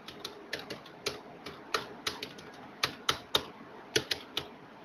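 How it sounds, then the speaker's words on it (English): Keystrokes typed in irregular bursts on a computer keyboard while entering commands, sharp distinct clicks close up with short pauses between them and no talking. "We'll type the commands."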